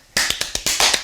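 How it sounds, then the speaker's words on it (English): Fast Gypsy Kings style hand claps, a quick run of about eight sharp, bright claps in a rapid, slightly uneven rhythm, close and loud with no talking. "You know the claps, the super fast."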